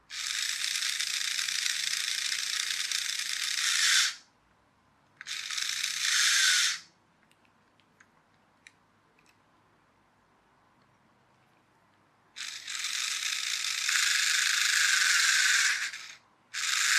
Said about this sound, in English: let's put some power directly onto the motors